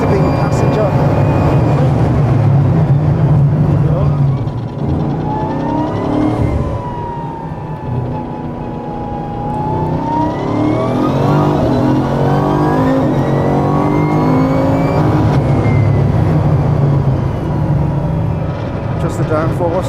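Extreme high-performance sports car engine rising and falling in revs with shifts between gears, loud and close throughout, heard from inside the cabin beneath people talking.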